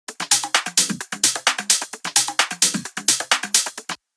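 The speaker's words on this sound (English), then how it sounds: "So this is my clap." Clap sample from a rolling tech house drum loop, layered with hi-hats, sharp claps repeating rapidly in a tight, steady groove, loud and upfront with no voice.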